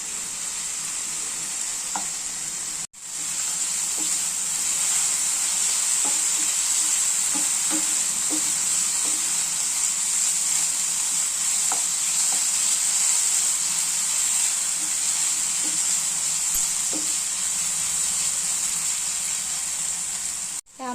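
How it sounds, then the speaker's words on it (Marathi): Potato pieces fry in spiced tempering oil in a pan, giving a steady close hiss of sizzling for the whole stretch, with occasional soft clicks of stirring. "बटाटा फोडणीमध्ये टाकलेला आहे"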